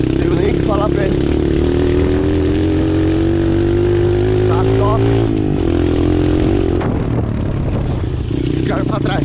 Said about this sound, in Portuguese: essa mini moto que é 6 cilindrada. Só que ela anda.